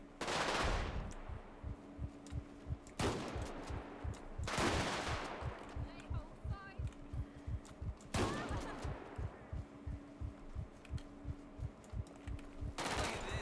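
Repeated gunfire from a shotgun in the game GTA 5, loud sharp blasts spaced a few seconds apart over a dense rapid rattle of other weapons, with a steady hum underneath.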